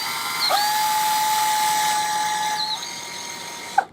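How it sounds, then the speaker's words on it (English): A power drill bores pilot holes into the wooden panels of a bumblebee house, a steady high whine held for about two seconds, then winding down, followed by a short sharp knock. "with the drill, we're going to complete these pilot holes here"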